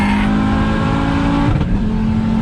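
Audi UrS6 C4 with a big turbo upgrade and VEMS ECU, pulling hard through second and third gear on a street tune: a loud, continuous engine roar climbing in pitch, with a short dip at a gear change before it rises again.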